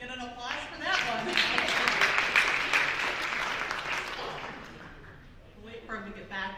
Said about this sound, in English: Get an applause for that one.